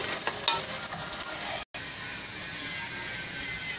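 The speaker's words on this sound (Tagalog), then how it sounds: "Hinahalo ko yung balun-balunan at saka chicken." Chicken gizzards and chicken pieces being stirred in a hot pan, with a steady close sizzle and scraping strokes throughout and a brief dropout midway.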